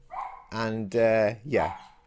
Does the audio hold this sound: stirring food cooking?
no